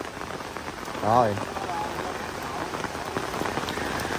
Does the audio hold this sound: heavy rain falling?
yes